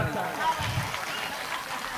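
Applause rises from a crowd at a Maratha reservation rally, a steady wash of clapping heard at a moderate distance and mixed with murmuring voices.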